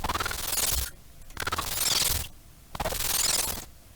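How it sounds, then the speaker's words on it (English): A resampled synth sound run through a granulizer gives three grainy, textured swells with short dips between them, dense and smeared across the whole range, with no voices. "I'm taking iteration 1 and I'm putting it into a granulizer,"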